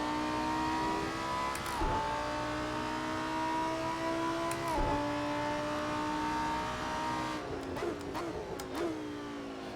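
Lamborghini Super Trofeo race car engine in a sim racing game at Donington Park: a loud, sustained high-revving whine climbing in pitch, broken by two quick gear-shift drops and a busier shift near the end.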